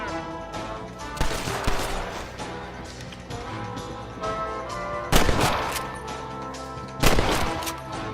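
Gunfire in Red Dead Redemption: loud bursts of shots ring out in clusters over a steady background din of battle, with sharp volleys near the start, middle and end and no talking.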